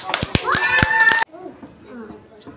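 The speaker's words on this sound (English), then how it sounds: "All of you clap for her" Children clap for a classmate with a few sharp, uneven hand claps mixed with excited kids' voices. It all stops abruptly, and quieter chatter follows.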